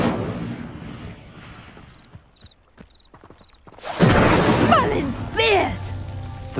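Incendio fire spell cast in the video game Hogwarts Legacy, a sudden loud whooshing burst of flame that roars for a couple of seconds after a quieter stretch with faint chiming tones.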